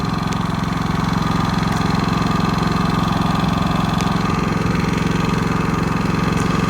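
A new Harbor Freight Predator 5000 watt dual-fuel generator idles nearby with a constant, even engine chug and buzz, running unchanged throughout while the engine is being broken in.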